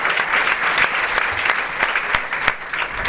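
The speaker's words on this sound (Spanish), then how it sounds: "Yo creo que se merece también un fuerte aplauso." Audience applause at a Ciudadanos citizens' meeting, a dense burst of clapping with a few sharper individual claps standing out, fairly loud and steady and with no talk over it.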